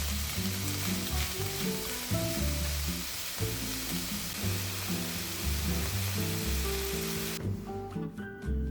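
Carrot pieces hit a hot frying pan with a loud, steady sizzle that runs throughout, with stirring clatter, cutting off sharply near the end.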